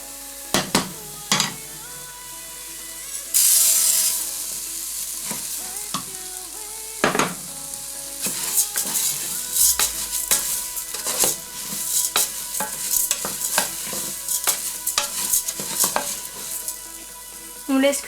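Rice sizzles in a pan with melted butter and browning onion for a ham, pea and mascarpone risotto, a steady close frying hiss broken by repeated scrapes and clinks of a spoon stirring against the pan, with no talking.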